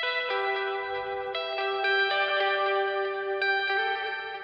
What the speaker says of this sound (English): he's a pretty good guitarist and he made this melody right here.